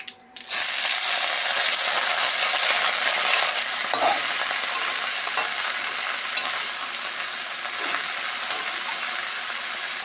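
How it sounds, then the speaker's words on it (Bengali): Pumpkin leaves and green chilies hit hot oil with a sudden loud burst of sizzling that then holds steady and close, with occasional stirring scrapes through the frying. "যেরকম শাক ভাজে ওরকমই কুমড়ো পাতাটা ভেজে নেব। কাঁচা লঙ্কা আর শাক একসঙ্গে দিয়ে দিলাম।"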